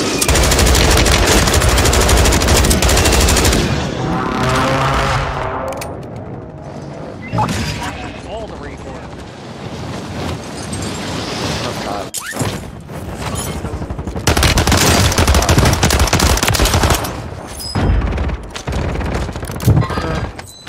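Submachine gun fire in an online multiplayer shooter game, dense bursts of rapid automatic shots mixed with explosions and other gunfire, loud and continuous, with players talking over the action.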